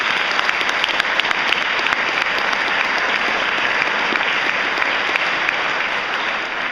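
Sustained applause from a conference audience honoring the presiding officers, dense and steady, filling the room for several seconds before easing slightly at the end.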